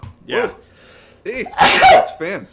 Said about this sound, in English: Yeah, I sneeze like a girl.